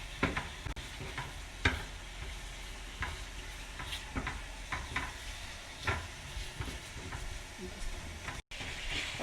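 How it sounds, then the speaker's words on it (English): Shrimp sizzling in a pan, a steady hiss broken by repeated sharp stirring scrapes and clacks at an uneven rhythm, close and fairly quiet. "now that our shrimp is cooking"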